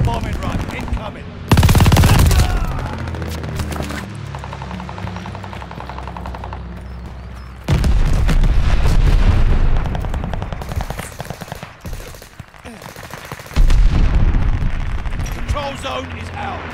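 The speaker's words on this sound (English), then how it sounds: "Allies called a bombing run" An allied bombing run in Call of Duty Vanguard rips through with machine-gun fire and heavy booming explosions, three loud bursts rising over steady battle rumble, while voices talk throughout.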